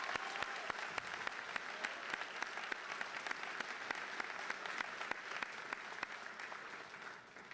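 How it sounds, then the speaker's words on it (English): An audience at a high school honors assembly claps steadily for several seconds, a dense, even wash of applause that tapers slightly at the end, with no one speaking over it. "Please give them a round of applause."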